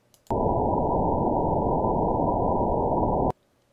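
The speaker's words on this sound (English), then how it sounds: "which is the noise between 0 and 1 kilohertz" Band-limited noise spanning 0 to 1 kilohertz, a steady dull rushing hiss that switches on abruptly, holds constant for about three seconds and cuts off sharply, alone.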